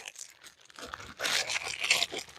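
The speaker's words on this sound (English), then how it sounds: "time for me to remove the plastic bags off of baby and grandma" Plastic bags pulled off a creepy grandma and baby Halloween home-haunt prop, giving bursts of crinkling and tearing that swell louder and denser in the second half, with no talk.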